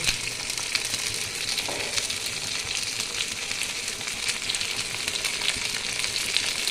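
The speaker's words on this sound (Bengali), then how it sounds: "এখানে বন্ধুরা কচুটা হালকা ভেজে নিয়ে তারপরে আমি বেগুন, কাঁচা কলা দিয়ে দিয়েছি।" Taro, eggplant and green banana fry together in a pan, giving a loud, steady, crackling sizzle that continues evenly from start to finish with no voices.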